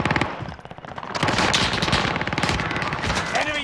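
Automatic gunfire in Call of Duty: Warzone on Fortune's Keep, rapid bursts of close, loud shots rattling almost without pause and layered over other battle noise.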